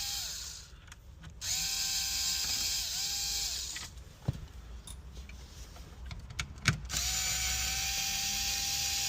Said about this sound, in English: Next, we need to remove these two Torx 20 screws.